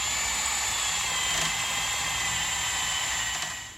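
A power tool drills holes through a kart floor pan and tightens its bolts, a steady, close, high-pitched whirring drone that runs unbroken for nearly four seconds before easing off.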